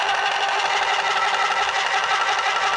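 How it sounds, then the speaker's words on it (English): A 12-volt electric car jack motor, powered from a cigarette lighter socket, runs in a steady, loud, close-up buzzing whir with no pauses. "I can't believe there's a 12-volt motor that actually does it."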